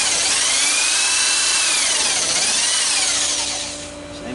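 A power drill bores into a wooden park bench, its loud continuous whine rising and dipping in pitch as the bit works through the wood and then easing off at the end.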